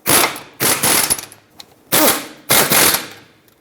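A power tool snugs the front brake caliper bolts on a 2012-2018 Nissan Altima in four loud, close, rattling bursts, each lasting about half a second, with short gaps between them.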